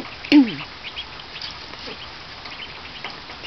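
A single loud Indian Runner duck quack near the start, followed by a few faint, scattered quacks over quiet background.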